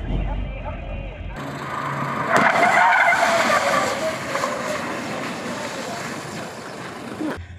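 A Volvo electric car taking a curve fast on a driver training course, with rising tire noise and a squealing whine under an excited commentator's voice, close and loud.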